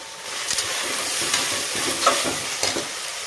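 Mutton for biryani fries in a pan with a loud, continuous sizzle, broken by several close scraping stirs spaced through the few seconds.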